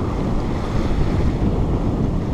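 Strong wind and rushing waves on a sailboat circling Sardinia in about 15 knots of breeze with a reefed genoa: a loud, steady roar of gusts and water washing past the hull, with no voices.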